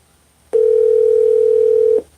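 A single steady telephone dial tone while calling someone back after an accidental hang-up, starting abruptly, holding level for about a second and a half, then cutting off, loud and close with no talking.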